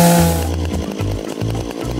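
A yellow chainsaw in DayZ revs loudly and close, its engine pulsing in short surging bursts with brief dips between them.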